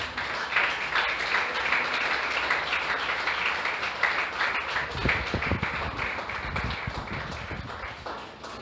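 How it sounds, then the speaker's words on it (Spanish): A church congregation bursts into sustained applause during a Spanish-language service, a steady wash of many hands clapping that holds for most of the stretch, fairly loud and roomy before easing slightly toward the end. "Den un aplauso a Dios,"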